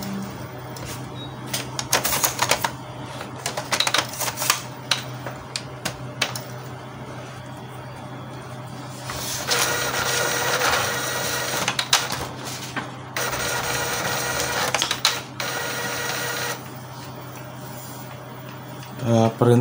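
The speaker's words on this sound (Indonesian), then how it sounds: "Kita coba nyalakan printernya" An Epson L805 printer starts up after being switched on, with bursts of mechanical whirring, clicks and longer motor runs between quiet gaps, and some speech nearby.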